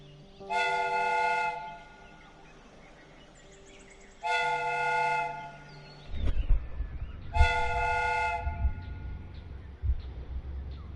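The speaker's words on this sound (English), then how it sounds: "The steam whistle is ready to be used." A steam whistle on a train replica in a Sherlock Holmes video game sounds three long, loud, harmonic blasts with gaps between them, the last joined by clanking and rumbling mechanical noise.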